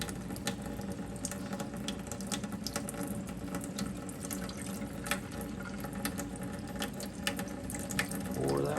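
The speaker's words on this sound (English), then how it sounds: "pour that water off" Water poured slowly off tomato seeds soaking in a container, a steady continuous trickling wash with faint clinks, no talk over it.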